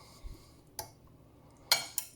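Venison ragu pasta is twisted on a spoon, with a few scattered metallic clinks and taps of cutlery against a dish in an otherwise quiet room.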